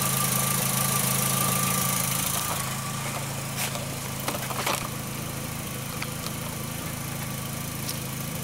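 A Volkswagen engine runs steadily up close after a cylinder 3 misfire repair, an even mechanical hum with a faint ticking texture and a few light clicks, no voices.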